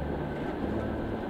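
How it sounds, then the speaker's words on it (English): A steady low rumble and rattle from a train swaying along a narrow-gauge railway through a forest, continuous and close, with no break. "sways along the narrow railway gauge,"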